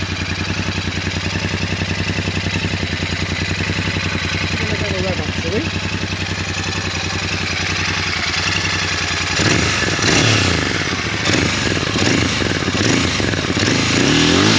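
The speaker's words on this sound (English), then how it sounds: "I love the sound of that engine for a small bike." A Royal Enfield Interceptor 650 motorcycle engine chugs at a steady idle, then revs up loudly in several rough bursts, close by, with some talking mixed in.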